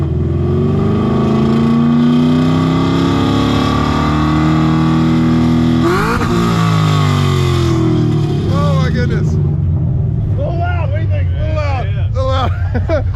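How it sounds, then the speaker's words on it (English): Stripped Ford Mustang Fox body GT race car revving hard up close, its engine note rising and falling in loud sweeps, with people talking over it toward the end. "You want to rev it up a little bit?"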